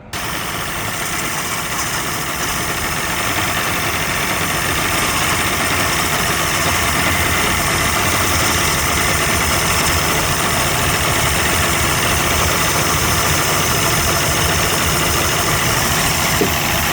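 A Mercury outboard boat motor idles loudly and steadily during a Sea Foam treatment, a constant rumbling drone with no change in pace for the whole stretch.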